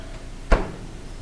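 A door fitted with a cheap contact sensor shuts with a single short thud, fairly close, in an otherwise quiet room.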